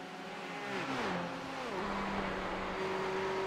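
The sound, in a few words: race car engine lifting off throttle, Le Mans sim racing video game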